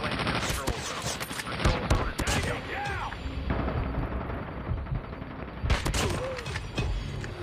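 Gunfire from the video game Call of Duty Mobile, a sniper match. Dense bursts of shots and booming impacts come in clusters, loud and continuous, with game sound effects between them.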